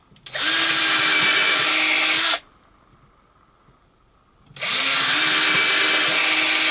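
A power drill with a dying battery whirs loudly for about two seconds, stops briefly, then runs again in a second steady burst, close by, while making a blending hackle for fiber.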